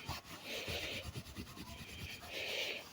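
A gloved hand rubs hydrogen peroxide into a stained mattress, giving soft repeated scrubbing strokes, close and fairly quiet, with no talk.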